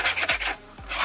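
Sandpaper rubs briskly over a small homemade part for a rechargeable 5V soldering iron, several quick, close rasping back-and-forth strokes with a brief pause between them, no voices.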